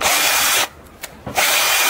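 A power drill bores out a sheared stainless steel bolt on a Lambretta scooter's flywheel cowling area, grinding loudly and steadily, cutting out briefly twice before resuming.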